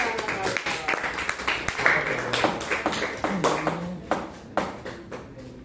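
Applause for a class in a classroom, a burst of many hands clapping in quick irregular bursts, fairly close and steady throughout, with voices mixed in underneath.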